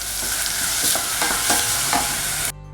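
Salted chopped onion stews in a pan for tomato sauce while a utensil stirs it, giving a soft steady sizzle punctuated by several scraping strokes, close and loud without any voice.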